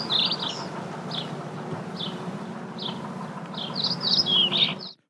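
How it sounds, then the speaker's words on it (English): Short bursts of bird chirps repeat every second or so over a steady low hum, growing busier and louder near the end. "Now, the correct sound of birds."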